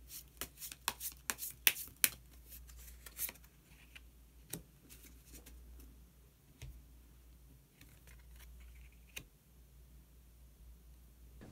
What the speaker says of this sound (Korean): 그러면 히든 카드를 한 장 더 뽑아보도록 하겠습니다.